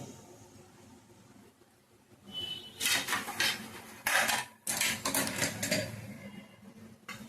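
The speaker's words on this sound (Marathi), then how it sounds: "आता ही भाजी मी प्लेटमध्ये काढून घेते खाण्यासाठी प्लेटमध्ये काढून घेते" Cooked cauliflower sabzi is served onto a plate, with a quiet start followed by bursts of metallic scraping and clinking from a spoon and pan, loud and close, then a final tap.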